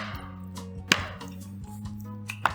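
Soufflé ramekins filled with batter in buttered dishes are tapped on a kitchen counter, giving a few sharp knocks, two of them especially clear, over a steady low hum, with no talk.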